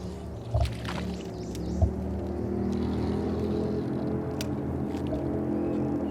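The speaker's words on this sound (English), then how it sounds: "The pleasant sound of an airboat running through the swamp." A distant airboat motor drones steadily across an open swamp, low and muffled, with a couple of faint thumps near the start.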